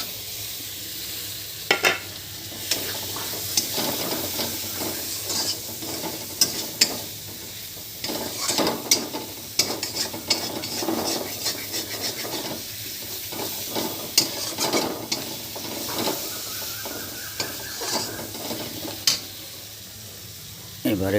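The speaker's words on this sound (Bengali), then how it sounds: "তো এবারে দিয়ে দেব এই যে কাঁচা টমেটো কেটে রেখেছিলাম" Raw chopped tomatoes are added to fried spices in a pan for a prawn curry, giving a steady sizzle with frequent scraping stirs and clanks of a spatula, and a voice speaks over it at times.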